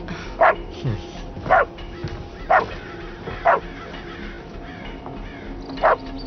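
A dog barks in a film scene, single loud barks repeating about once a second, then a pause before one more, over a faint background murmur.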